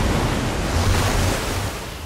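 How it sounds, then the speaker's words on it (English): Water gushing from a device in Minecraft Story Mode, a loud steady rushing wash of broad noise that swells slightly then eases, with no voices over it. "I don't know how much water this thing is going to kick out"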